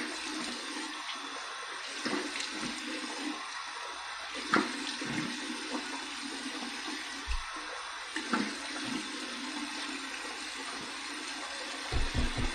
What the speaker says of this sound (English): here we go. Cold water rinse.